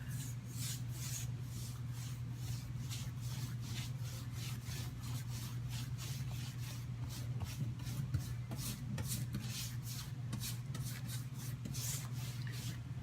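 A brush sweeps hemp oil across painted furniture in quick, repeated rubbing strokes, close and fairly quiet, with a low steady hum beneath and no talk.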